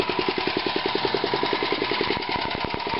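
A small engine idles steadily with a fast, even pulsing beat and a constant mechanical hum, close and moderately loud with no talk.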